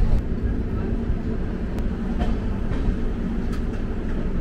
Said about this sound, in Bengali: ট্রেন মনে হয় ছেড়ে দিয়েছে